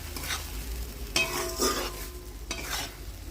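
Paste from two medium onions stirred and fried in a pan, a soft sizzle beneath a few scraping spatula strokes spaced about a second apart, close and quiet with no talking.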